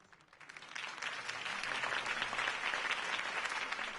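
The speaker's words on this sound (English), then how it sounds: "If only Mr. Wayne, my campaign's largest backer, could have heard that applause" Crowd applause in a Batman Telltale Series video game scene swells up from quiet into a dense, sustained wash of clapping that holds steady, heard slightly distant.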